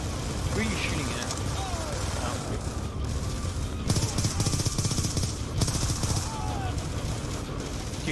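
Dense, continuous automatic gunfire fills a Call of Duty Black Ops 2 firefight on Veteran difficulty, layered with explosions and battle noise, loud and unbroken throughout.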